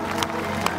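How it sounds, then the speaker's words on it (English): A church congregation claps together during a worship service, forming a dense, steady wash of crowd applause throughout the short moment. "Come on, clap to the King of Kings and Lord of Lords again."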